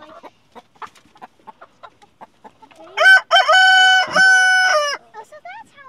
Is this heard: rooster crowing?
yes